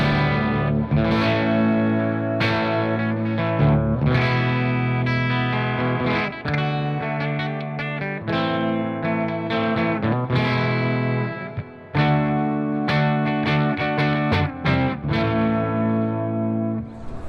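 Electric guitar through a Stomp IO with Guitar Rig software, playing heavy distorted tones: thick, loud chords and riffs in a steady rhythm, with brief breaks between phrases.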